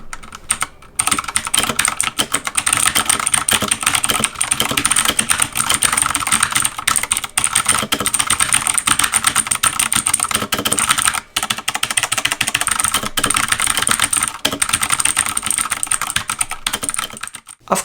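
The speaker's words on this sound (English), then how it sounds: "it definitely feels exactly how a blue switch mechanical keyboard should feel" Rapid, continuous clicky typing on a Redragon K552 Kumara TKL mechanical gaming keyboard with blue switches, loud and close with dense overlapping keystrokes throughout and only brief pauses.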